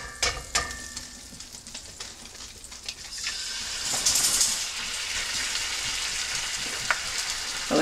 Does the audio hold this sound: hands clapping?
no